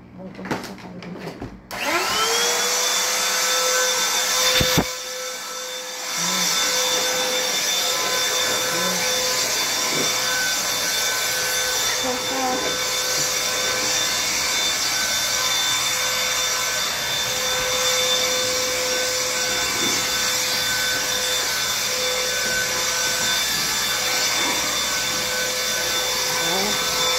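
A loud leaf blower used indoors on a house staircase starts up with a whine and runs continuously at a steady pitch, drowning out most other sound.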